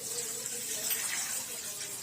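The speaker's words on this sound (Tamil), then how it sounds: "அதில் தண்ணியை ஊற்றணும்." Water poured into a kadai pan set on the stove while making Maggi noodles: a steady rushing, splashing stream for the whole couple of seconds, close and fairly loud, with no talk.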